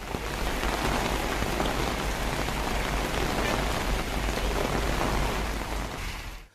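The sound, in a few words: heavy rain falling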